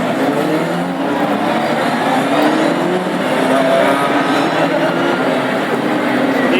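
Classic hot rod race cars rolling around a short oval at Lochgelly, a steady, loud, continuous engine drone from several cars together with no break.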